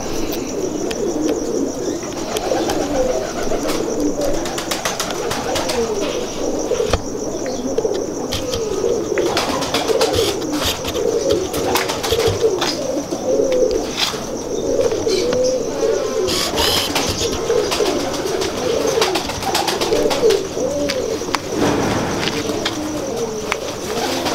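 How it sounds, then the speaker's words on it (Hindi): Steady low cooing from several Firozpuri pigeons, continuous and close, with occasional wing flutters and light rustling throughout. "ये भी फिरोजपुरी कबूतर है।"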